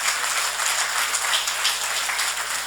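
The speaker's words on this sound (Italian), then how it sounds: "Grazie dell'applauso" Dense, even applause fills a hall at a Sardinian football awards gala. It holds steady as a continuous wash of many hands with no voices over it.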